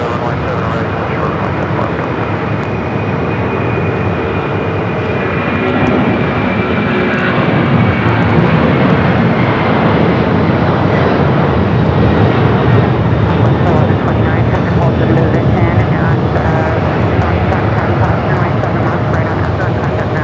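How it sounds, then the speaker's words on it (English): Boeing 767 roaring down runway 7 left at Phoenix Sky Harbor on its takeoff roll, a loud continuous jet engine rumble that holds steady throughout, with a voice talking over it. "we got that 767 now rolling down at 7 left"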